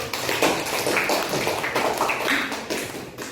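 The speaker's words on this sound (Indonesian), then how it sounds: "Tepuk tangan dulu." Students clap together in a classroom during a teaching practice lesson, a short burst of close, uneven hand claps that fades slightly toward the end.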